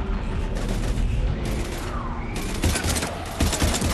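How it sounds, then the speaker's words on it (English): Heavy automatic gunfire rattles in a dense, continuous fusillade during a battle in Mass Effect Legendary Edition, with bursts overlapping and swelling louder toward the end. "We're taking heavy fire"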